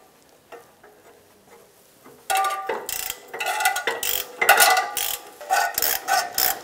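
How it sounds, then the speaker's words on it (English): A ratchet turning a 14 mm socket works loose rusted exhaust bolts on a 2007–2012 Nissan Versa catalytic converter pipe; faint clicks come first, then loud, rapid ratcheting bursts close by. "Using a 14 millimeter socket, we're gonna go ahead and loosen and remove the two bolts."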